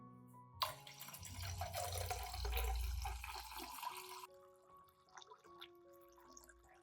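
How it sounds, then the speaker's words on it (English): About 1 liter of clean water pours steadily into a container with milk for a few seconds, a broad gushing splash that swells and then fades, with faint dripping and clinks afterward. "Then add 1 liter of clean water"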